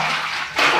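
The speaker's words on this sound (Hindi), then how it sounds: "इस पानी को भर लेंगे दोस्तों।" Water sloshes and splashes as a small mug scoops it inside a 1000-liter PVC water tank being cleaned, a loud, close, continuous wash of watery noise that surges near the end.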